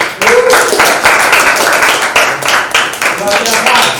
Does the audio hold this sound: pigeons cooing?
no